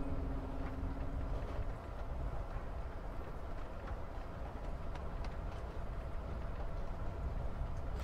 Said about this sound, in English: you're literally just going to hear the sweet soft sounds of the train